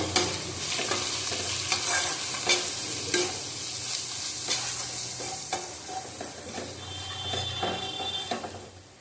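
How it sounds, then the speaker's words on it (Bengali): Chicken filling seasoned with Kashmiri chilli and cumin powder sizzles in a pan while a spoon stirs and scrapes it steadily, close and continuous, with no talking. "কাশ্মীরি লঙ্কার গুঁড়ো দিলাম হাফ চামচ জিরের গুঁড়ো দিলাম হাফ চামচ আবার ভালো করে কষিয়ে নেব"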